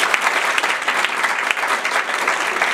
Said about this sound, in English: give Professor Ardalan a hand of applause